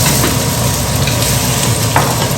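Small diced potatoes dropped into a hot pan for a vegan vegetable side, a close, steady sizzle and crackle with light stirring and no talk.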